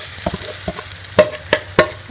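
An egg omelette paratha cooks on a tawa over medium heat, a soft close frying hiss broken by several sharp crackling pops and spatula taps.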